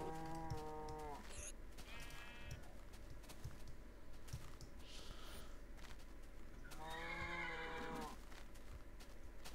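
A Minecraft horse neighs in a game, with one whinny at the start and another near the end over a steady low hum.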